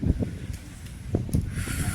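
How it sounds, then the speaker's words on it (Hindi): Gusty outdoor wind buffeting the microphone, low rumbling bursts that rise and fall unevenly, with a brief rustling hiss near the end. "कितनी तेज हवा चल रही है और कितनी अच्छी हवा चल रही है।"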